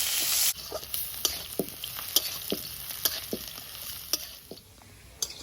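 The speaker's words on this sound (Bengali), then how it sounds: "মশলাটা ভাজা হয়েছে, এবার হাফ প্লেটে তুলে নেব।" Nigella seeds, dried chilli, crushed garlic and chopped onion fry in oil in a wok, giving a steady sizzle with regular stirring scrapes and clinks. A louder hiss opens the clip. No one speaks.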